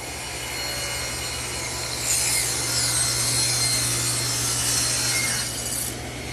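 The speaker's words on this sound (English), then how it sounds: "all I'm going to use is the table saw. I've tilted the blade to 45 degrees" A table saw with its blade tilted to 45 degrees bevels a wooden table leg, the motor's steady hum rising into a loud, bright cutting whine for about four seconds before easing back to idle.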